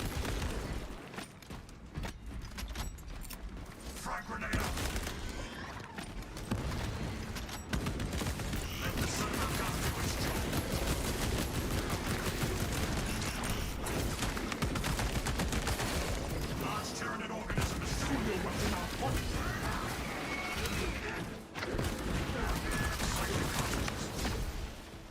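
Autobolt rifle hip firing in the Space Marine video game, continuous rapid automatic gunfire with mechanical clatter through a chaotic battle, loud and sustained, with someone talking over it.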